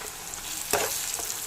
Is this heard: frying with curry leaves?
yes